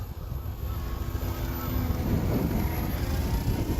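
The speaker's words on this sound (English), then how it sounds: "In this airplane, I am certain much smaller motors could fly this with a 3S battery" An H-King Wargo Signature Edge 540T RC airplane flies overhead, its electric motor giving a steady buzzing drone with wind noise, gradually getting louder, no talk.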